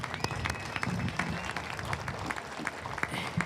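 Audience clapping at a James Monroe High School ribbon cutting ceremony, a moderate burst of applause with sharp individual claps, fairly faint overall.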